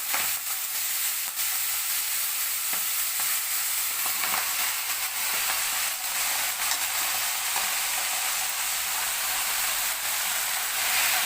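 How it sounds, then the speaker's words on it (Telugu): Washed fenugreek leaves fry in oil in a pan for chutney, giving a loud, continuous sizzle and hiss with no break and no voices. "కడిగిన మెంతి కూర వేసి ఫ్రై చేసుకోవాలి."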